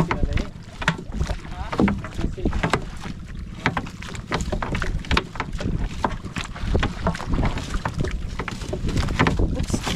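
A small boat putters and splashes close by, with wind buffeting the microphone and steady water noise throughout; someone talks briefly over it.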